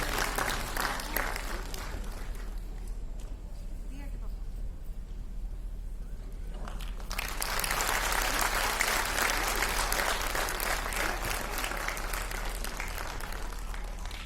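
Audience applause fills a hall at a Delhi Police Family Welfare Society event, steady clapping that thins briefly midway and then swells louder and sustained again for several seconds.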